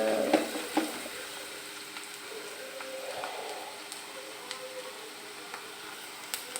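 Onions sauté in oil with garlic and green chilli for chicken macaroni, giving a soft, continuous sizzle with a few sharp utensil taps and clinks against the pan.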